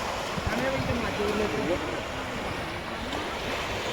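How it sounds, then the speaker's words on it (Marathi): Sea waves wash onto a beach at Virar in a steady, broad roar with wind buffeting the microphone and faint voices in the background. "फुल अशा दर्याच्या लाटा."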